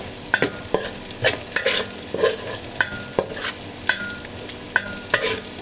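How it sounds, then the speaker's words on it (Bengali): Onion being lightly fried in a pan until soft, a loud close sizzle broken by frequent sharp knocks and scrapes of a stirring spoon on the pan in an irregular rhythm, with no one speaking. "পেঁয়াজটা সামান্য একটু ভেজে নেব"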